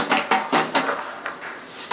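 Metal cake mould lifted from among kitchen dishes and pans while preparing a chocolate chip sandwich cake, giving several short close clinks and clatters in a quick irregular run.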